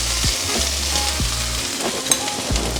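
Diced chicken sizzling steadily in a pan for a bodybuilder meal prep, a continuous close frying hiss with a few soft knocks of the pan, no voices.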